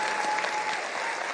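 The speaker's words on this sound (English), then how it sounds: "can we stand up and give His Excellency a round of a hearty, warm clap?" Audience applause at a presidential town hall meeting in Kisumu, steady, dense clapping from a large crowd, loud and continuous throughout.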